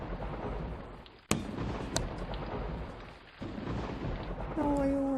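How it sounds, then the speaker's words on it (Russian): Thunder rumbling outside on an April day with only light drizzle, heard as a sharp crack followed by a second burst and long low rolling rumbles, fairly loud and steady, with a thin tonal whine near the end. "но почему-то гром есть"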